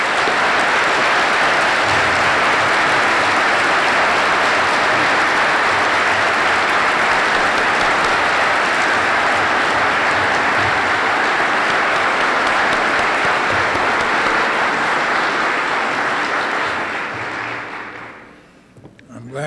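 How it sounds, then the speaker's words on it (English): At a 1983 university building dedication symposium, an audience applauds at the end of a lecture with a loud, sustained roar of clapping that lasts many seconds and then quickly dies away. "Glad to hear all that energy applauding Amory Lovins"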